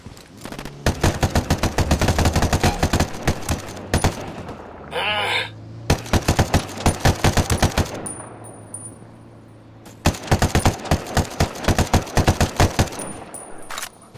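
AK rifle fire in the video game Ghost Recon Wildlands, loud rapid automatic bursts of several seconds each, separated by short pauses with softer in-game sounds between them.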